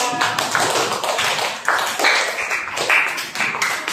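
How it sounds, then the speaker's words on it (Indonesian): A classroom of students applauding a group after its presentation, a dense, lively burst of many hands clapping at once, close and fairly loud throughout. "Oke, terima kasih, tepuk tangan."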